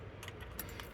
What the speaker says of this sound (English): should probably grab the keys